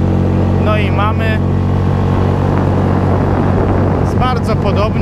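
Storm 6 four-stroke outboard motor pushing an Aircat 335 inflatable pontoon at full throttle, a loud steady engine drone with water and wind noise throughout, while someone talks briefly over it.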